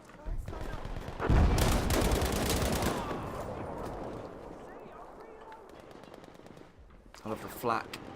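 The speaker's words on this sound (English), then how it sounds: "I love the flak as well" Anti-aircraft flak fire in the World War II shooter Battlefield V, a dense, rolling barrage of booming bursts and crackling gunfire that swells loud early on and then thins, with a voice speaking briefly over it.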